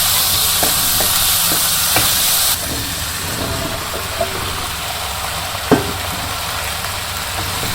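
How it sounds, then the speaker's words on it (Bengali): Prawns dropped into a hot pan of salt, turmeric and chili spices for a village-style kochur loti dish, giving a steady close sizzle and frying hiss with a few soft clinks and taps. "এখন দিয়ে দেবো চিংড়ি মাছগুলা।"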